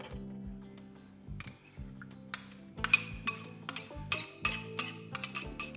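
Cubed eggplant and yogurt stirred together in a bowl for Turkish Alinazik, with irregular close clinks and taps of a utensil against the bowl over a faint low hum.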